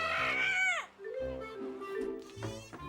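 A high, warbling call from a big-beaked, mostly blue bird with yellow wings sweeps up and down, followed by shorter squawking and chattering notes, fairly close and clear.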